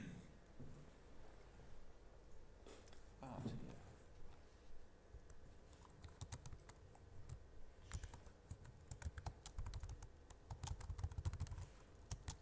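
Typing on a computer keyboard while writing Sinatra web code: quiet, uneven bursts of key clicks, denser and louder toward the end, with soft room noise between them.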